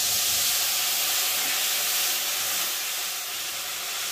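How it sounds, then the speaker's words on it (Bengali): Tamarind water poured into a hot pan of fried crab gives a loud, steady steam hiss that holds close and continuous for the whole stretch, easing only slightly near the end. "এখন আমি তেঁতুলের জলটা ঢেলে দেবো।"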